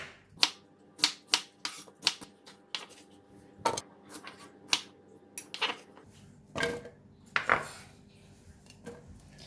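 Sharp, irregular knife strikes chopping red onion on a cutting board, a quick series of separate chops with brief pauses, close and clear with no talking.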